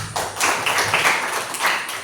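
A classroom of students clapping for a group after its maths presentation, a close, dense burst of hand claps with uneven surges throughout, no voices over it.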